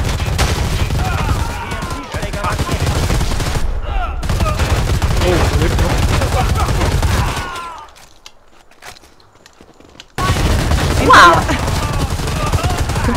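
Dense gunfire in the shooter game Predator: Hunting Grounds, with sustained bursts and automatic rifle fire that drop out briefly before resuming loudly, and a voice speaking over parts of it.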